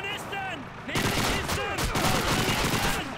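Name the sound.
gunfire shooting through a box in video game Call of Duty 2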